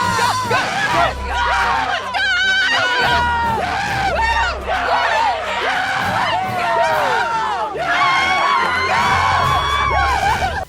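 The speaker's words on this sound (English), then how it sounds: "the crowd just goes wild" A live crowd at an elimination on The Amazing Race erupts in wild cheering, whoops and screams, loud and sustained throughout with dense babble and shouting.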